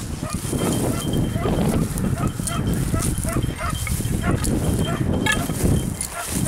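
Hunting dogs bark and bay in the distance outdoors, repeated cries carrying over a steady wind-like rumble, with someone talking nearby.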